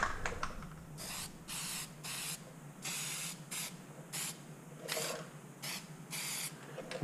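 Plasti Dip aerosol can spraying a light coat onto car badges, a series of short close hissing bursts with quiet pauses between them.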